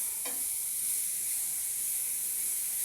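Grated carrots frying in a pan for carrot halwa, a soft steady hiss and sizzle with a brief stirring scrape near the start, close and even, no voices.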